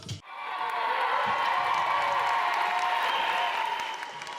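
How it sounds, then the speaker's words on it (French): Thunderous applause with cheering and whoops from the audience at the close of a cabaret, a sustained, full wash of clapping heard close up after a brief pause. "le traditionnel bœuf musical annonce la fin du cabaret dans un tonnerre d'applaudissements"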